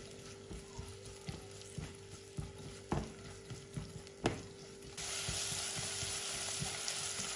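Onion and garlic fry in a pan on a gas stove, with a soft steady sizzle broken by repeated scraping stirs, and the sizzle turning louder and brighter over the last couple of seconds.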